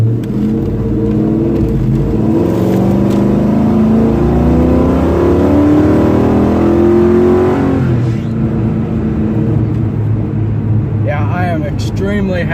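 Ford Mustang with a 5.0 V8 and a J-mod revs loudly during a test drive, a sustained engine roar that climbs and falls in pitch beneath a talking voice, easing off near the end.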